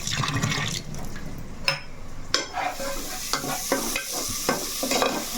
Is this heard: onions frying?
yes